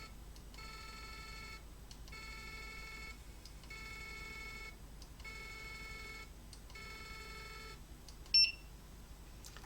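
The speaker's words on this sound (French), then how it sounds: "Le bip nous annonce « Inutile d'insister, le chariot est en butée logicielle »" A pyrography machine whose carriage has reached its software limit gives out a faint electronic beep. It comes in five evenly spaced tones, each about a second long, with a soft click near the end.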